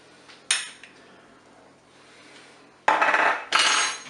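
Spoon clatters and scrapes inside a Cookeo multicooker pot while a flour-and-water mixture is stirred in to thicken a mustard chicken sauce, a sharp knock early on, then louder bursts of stirring near the end.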